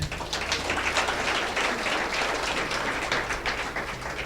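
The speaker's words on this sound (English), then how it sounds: "Clap for the Lord" A church congregation claps for the Lord, with sustained, loud, dense applause filling the whole stretch evenly and no voices above it.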